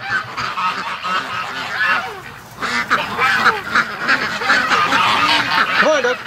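A group of geese and ducks, young birds being moved to a barn, honks and quacks loudly and close by, with overlapping calls continuing throughout and no talk.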